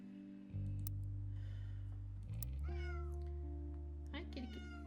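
Cat meowing in The Roottrees are Dead, a few drawn-out, rising meows over a low steady hum, fairly close and clear.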